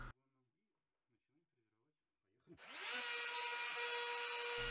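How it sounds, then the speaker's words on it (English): A router fitted with a straight cutter mills PVC vinyl tile along a template, starting up after a quiet stretch with faint speech and then running loud and steady as a high whine with broadband cutting noise to the end. "Take a router with a straight H cutter and let's go."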